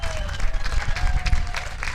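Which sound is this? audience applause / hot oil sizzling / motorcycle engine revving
audience applause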